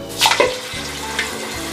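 Javanese tofu mendol patties fry in deep hot oil, with soft bubbling sizzle and a few sharper splashes and clinks as pieces go into the pan one by one.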